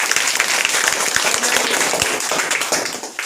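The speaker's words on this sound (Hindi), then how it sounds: "तालियां।" Schoolchildren clapping together in a classroom, a loud, close burst of many hands with distinct sharp claps standing out from the dense patter, continuing steadily before tapering slightly at the end.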